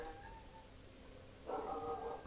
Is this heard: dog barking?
yes